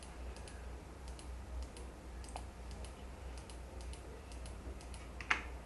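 A computer mouse clicking repeatedly while selecting squares on screen, light rapid clicks in irregular bursts, close and soft over a low background hum, with one sharper click near the end.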